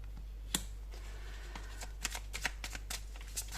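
Oracle cards shuffled by hand during a horoscope card reading, a steady riffle punctuated by a sharp snap near the start and a string of crisp flicking taps, close and fairly quiet.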